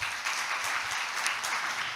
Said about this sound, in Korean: 그런 하나님께 박수 한번 올려드릴까요?